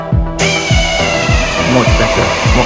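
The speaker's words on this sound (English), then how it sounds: "I'm loving the air tools, much better than before." Pneumatic air tools working on the bodywork of an Audi Quattro, a loud, close high-pitched whine with a run of short repeated bursts and thuds, continuous over the whole stretch.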